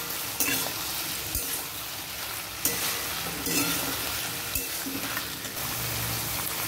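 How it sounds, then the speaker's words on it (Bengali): Unpeeled potato curry frying in a pan, a continuous close sizzle broken by a few sharp spatula knocks and stirring scrapes. "এখন নেড়ে নেব।"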